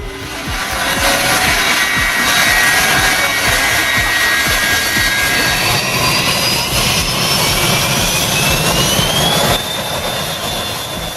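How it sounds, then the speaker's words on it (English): An Insel Air jet airliner roars loudly through its takeoff at St. Martin with sustained, close engine thrust and a rising whine. No voices are heard over it. "As Insel Air lifts off at St. Martin, powerful winds rip through the fence"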